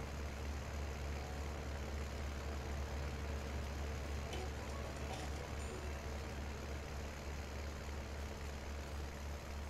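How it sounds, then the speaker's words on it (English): A tractor in Farming Simulator 19 labors uphill, its engine droning heavily and steadily at a loud, constant level for the whole stretch. "Oh, my poor tractor's just grunting at the top of the hill."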